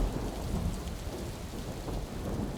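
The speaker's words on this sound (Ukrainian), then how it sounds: "Громи та блискавки роздирали небо навпіл" A heavy thunderstorm roars continuously, with dense pouring rain and deep low rumbling thunder filling the whole short stretch at a steady, enveloping level.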